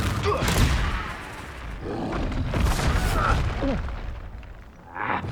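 In the Hogwarts Legacy video game, a Confringo blasting spell goes off in a loud, close fight, giving booming thuds and rumbling blasts amid spell effects and combat grunts.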